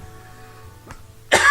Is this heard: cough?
yes